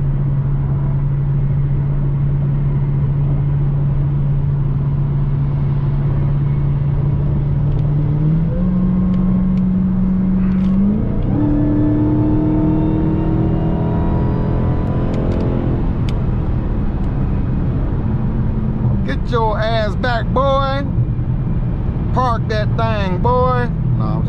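A car's engine revs and climbs in pitch through rising acceleration, with another small car nearby on the street, loud and close throughout, ending in sharp squealing bursts.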